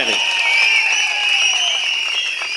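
Audience at a political gathering applauding, a dense burst of clapping that holds steady and close, with faint voices mixed in.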